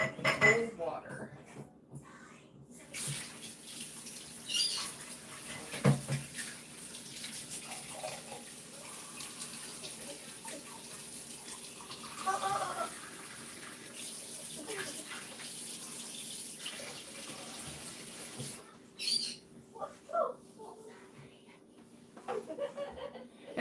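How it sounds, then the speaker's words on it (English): Cold water runs from a kitchen tap while a jar soaks. A steady faint stream continues throughout, with dishes and cutlery clinking now and then and occasional quiet voices. "Cold water."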